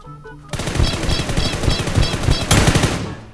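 Loud, close automatic gunfire in the mobile shooter PUBG New State, played in first-person mode, comes as a rapid burst of evenly spaced shots lasting about three seconds, with a brief pause before the rattle resumes.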